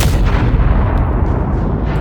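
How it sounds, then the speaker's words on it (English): Layered explosion sound effect built as the gritty main body of a blast, a loud, dense, distorted rumble that stays heavy for about two seconds with no speech. "which obviously is like the main grunge of the explosion"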